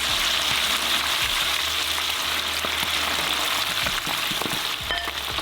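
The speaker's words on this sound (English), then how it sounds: "then I'm just going to run through hot oil" Sliced peppers and onions hitting hot oil for a quick Chinese-style flash fry, a loud steady crackling sizzle with dense popping throughout, close and alone.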